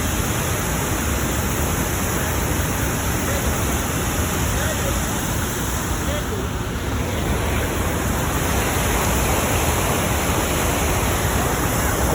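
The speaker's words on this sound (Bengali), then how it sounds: "এখানে এই যে ঝর্ণা, আমরা ঝর্ণা দেখতে আসছি" A mountain waterfall with water pouring down between high hills, a steady, loud, broadband rush that continues unbroken and close by throughout.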